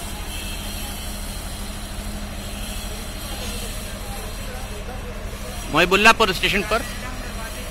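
Two locomotive engines rumble and hiss steadily at a station being readied for broad-gauge service, heard from some distance, with a voice speaking briefly near the end.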